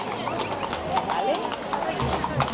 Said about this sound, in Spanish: ahora están pasando todos los caballos primero